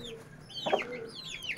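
Hens with their month-old chicks on a farm: high thin chick peeps trill throughout while a hen gives a short throaty cluck in the middle, close and moderately loud, with no talking.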